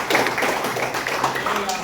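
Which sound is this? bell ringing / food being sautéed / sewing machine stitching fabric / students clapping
students clapping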